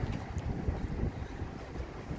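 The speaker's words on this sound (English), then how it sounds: "the weather is not nice. It's windy, might rain" Gusty wind buffets the microphone in uneven low rumbles, fairly faint, with no talking.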